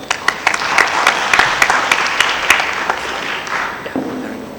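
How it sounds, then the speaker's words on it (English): An audience at a media conference session applauds an incoming speaker with steady, full clapping that holds throughout, with sharp individual claps standing out near the microphone. "Please give him a round of applause."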